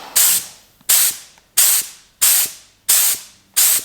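Six short bursts of an aerosol spray can misting paint onto a truck bed panel of a cat eye Chevy, each hiss sharp and close with brief pauses between, no talking.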